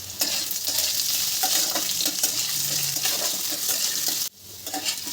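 Cut potatoes dropped into hot mustard oil seasoned with radhuni, sizzling and spattering loudly and steadily with stirring clatter, before a brief drop and the frying swelling back.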